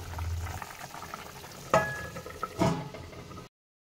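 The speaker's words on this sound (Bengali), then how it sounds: "ঝোলটা ফুটে আসলে একটা পাত্র দিয়ে ঢেকে দিতে হবে যতক্ষণ না আলু আর কচুটা সিদ্ধ হয়" Fish curry with potato and taro bubbling in a pot, a soft simmering hiss broken by two sharp clinks of metal, likely a lid or utensil, before it cuts off.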